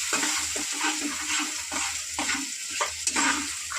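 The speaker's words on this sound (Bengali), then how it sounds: "এবারে এটাকে ভালো করে নাড়াচাড়া করবো।" A pork curry is stirred in a pan, producing moderate sizzling with repeated soft scraping and stirring strokes in an uneven rhythm, no voices.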